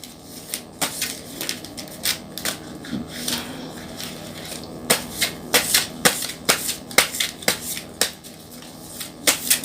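Playing cards are shuffled and handled during a reading, a run of sharp riffling flicks that grows busier and louder toward the end, with no talk.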